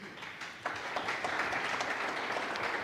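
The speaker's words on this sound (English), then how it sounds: "So a final applause for them." Audience applause for panelists at the close of a symposium session, a broad steady wash of many hands clapping that swells after a quieter opening and carries on at an even level to the end.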